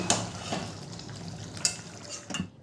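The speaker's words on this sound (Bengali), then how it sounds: "ভালো করে নেড়ে দেবো।" A spoon stirs a pan of Bengali jackfruit curry, echorer kalia, with a few scattered clinks and scrapes over a soft steady background, close by and without talk.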